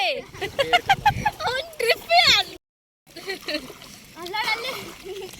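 Water splashes close by as children chatter and shout, with a brief silent gap midway before the splashing and voices resume.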